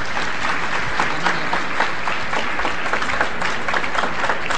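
Loud, dense applause from a convention audience at the closing of a national geography and environment convention, continuous crowd clapping throughout with no break.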